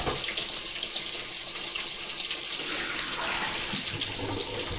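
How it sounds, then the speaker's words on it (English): Cooked noodles are poured from the pot into a colander, giving a continuous close rush and splash of water that carries on steadily for several seconds. "I'm going to drain my noodles"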